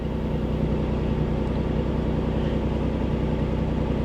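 A 1988 Chevy Cavalier Z24 engine holds a high idle just over 1,000 RPM with a steady, even mid-pitched drone. It stays close and continuous, with no voices.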